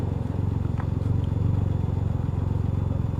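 Can-Am Ryker three-wheeled motorcycle riding, a loud, steady low engine drone with a fast pulsing throb and constant wind rumble.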